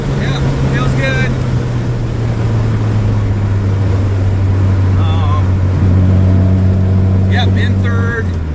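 A Volkswagen with a freshly repaired transmission drives in second gear, its engine holding a steady low drone under constant road and wind rumble, with someone talking briefly over it.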